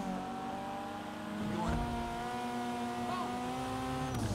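A car engine revs and races in a video game, holding a steady high drone with rising pitch sweeps and a brief squeal, while someone talks over it.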